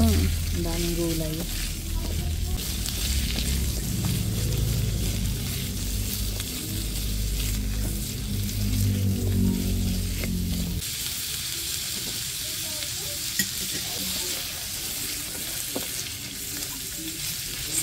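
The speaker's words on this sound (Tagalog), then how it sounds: "Atin po munang igigisa po ng kaunti" Squid stir-fried with carrots and plenty of sliced vegetables in a pan for sizzling squid, giving a steady loud sizzle and frying hiss, heavier in the first ten seconds and then lighter, with no talk over it.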